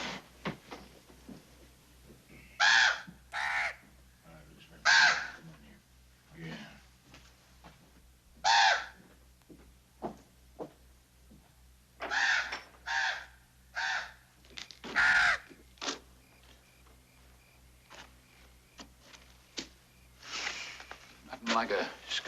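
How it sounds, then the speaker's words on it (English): A crow caws repeatedly in short, loud bursts at an irregular rhythm, mixed with quieter outdoor voices and movement. "Boy's been fretting about that crow."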